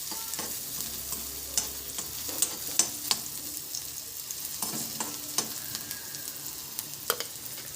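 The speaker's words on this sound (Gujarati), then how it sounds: "અને ત્યારબાદ આ ડુંગળી ડુંગળીને આપણે થોડી ગોલ્ડન બ્રાઉન થવા દેવાની છે." Onions fry in a pan while a utensil stirs them, a continuous sizzle broken by scattered scraping clicks and light knocks, close and without talk.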